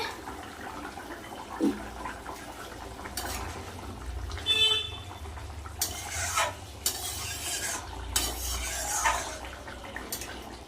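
A thin rohu fish curry broth with potatoes and vegetables at a rolling boil in a pot: a steady, moderately loud bubbling hiss with occasional splashes and spoon clinks, and no voices.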